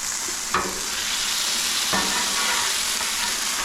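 Smash burgers sizzling on a Blackstone griddle as they are seasoned and flipped, a steady loud crackling sizzle with two sharp scraping spatula hits standing out, no voices.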